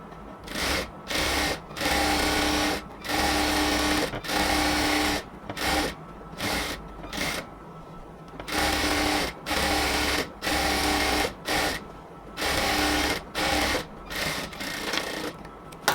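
A sewing machine lock-stitches the seam of a salwar in short repeated bursts of fast whirring, each separated by brief pauses, close and clear.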